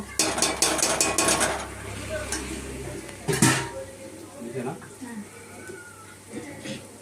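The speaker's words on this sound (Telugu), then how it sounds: "ఇప్పుడు చికెన్ వేసేసుకుందాము" Chicken pieces are tipped into a cooking pot for a country-style farm-chicken dish. Metallic clatter and scraping come in a cluster at first, then a single sharp clank follows, with a voice talking through much of it.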